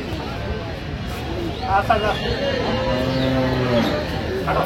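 Dairy cows and calves low and moo several times amid a busy cattle market at Ambari Haat, Dinajpur, with people talking in the background throughout.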